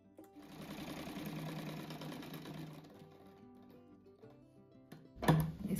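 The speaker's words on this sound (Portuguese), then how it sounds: "Esses daqui também eu vou costurar um marrom com verde." A sewing machine stitches brown and green fabric pieces for a patchwork rug, running steadily for about three seconds before slowing and quieting, followed by a sharp close thunk near the end.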